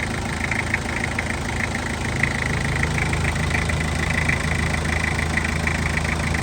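A Nissan Frontier pickup truck's engine idles with a steady, close mechanical rumble and an even, faintly knocking clatter that stays unchanged throughout.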